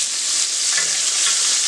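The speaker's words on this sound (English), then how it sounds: "Just got through frying up these chicken breasts." Steady, dense sizzle of chicken breasts frying in hot oil, loud and continuous with no voices.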